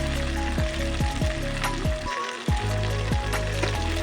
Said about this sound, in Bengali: বাঁধাকপিটা ভালো করে ভেজে নিতে হবে